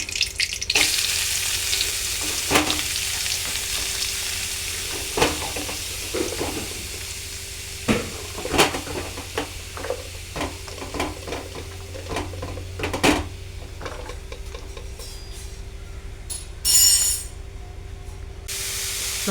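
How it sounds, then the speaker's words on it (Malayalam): Chopped spinach with curry leaves fries and hisses steadily in a hot pan, loud and close, with intermittent scraping stirs and clinks before the sizzle fades toward the end. "അതിലേക്ക് കുറച്ച് കരിയപ്പില്ല അരിഞ്ഞ് വെച്ചിരിക്കുന്ന ചീര ഇടുകയാണ്"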